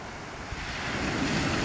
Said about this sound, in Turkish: Oltayı kurduğumuz yere kadar geliyor dalga.